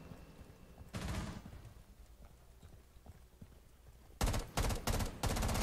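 Gunfire in the tactical shooter Rainbow Six Siege: a single loud burst early on, then after a quiet stretch a quick run of four close, loud shots that end the clip.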